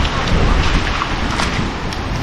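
Rain beginning to fall outdoors, a dense steady hiss of drops with a low rumbling wash beneath, continuous and fairly loud throughout.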